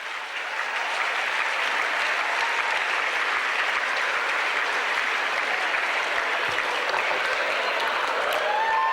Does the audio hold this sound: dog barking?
no